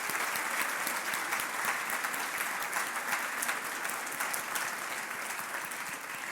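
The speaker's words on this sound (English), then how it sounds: "let's have one round of applause for the 2024 Greater West Bloomfield" Audience applause at a community awards ceremony for an honor roll in Greater West Bloomfield, Michigan, a steady dense clapping from a sizable crowd that holds at an even level for about six seconds with no voices over it.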